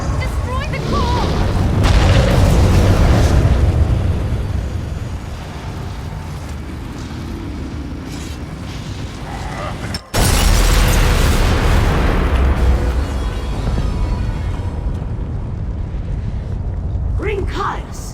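A core blows apart in The Elder Scrolls Online, a loud, sustained booming roar that swells, breaks off abruptly, then resumes as a rumbling wash while voices speak over it.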